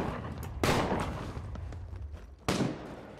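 Two loud, sharp gunshots from the PC video game The Culling 2, about two seconds apart, each with a short booming tail over low background noise.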